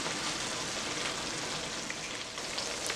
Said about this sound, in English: I'm going on to fry my plantain.